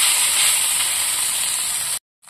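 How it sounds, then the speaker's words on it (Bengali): Boiled Maggi noodles frying in a pan, a loud, bright hiss and sizzle held steadily close up for two seconds before cutting off abruptly, then briefly resuming. "তো চলো এটাকে একটু ভাজা ভাজা করে দিই।"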